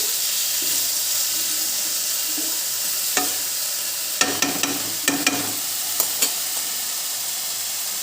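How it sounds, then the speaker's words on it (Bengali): Water lily stems sizzle steadily as they are stir-fried in a pan, with a handful of sharp scraping stirs in the middle stretch over the constant hiss. "এটাকে আবার নেড়ে চেড়ে ভাজতে হবে"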